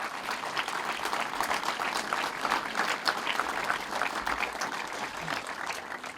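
An audience at a village ceremony in Slovenia applauds steadily, a dense even patter of many hands clapping for several seconds with no talk over it.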